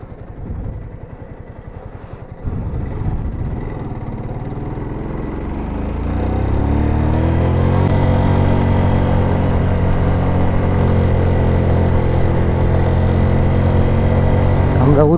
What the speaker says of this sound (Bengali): হয়তো বা বাইকের সাউন্ডে একটু সমস্যা হইতে পারে আপনাদের, বাট কিছু করার নেই। আসলে প্রচুর পরিমাণে প্রেশার দিতে হচ্ছে গাড়িতে